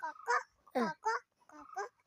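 A voice imitates a duck with several short nasal quacks in a quick uneven series, close and clear.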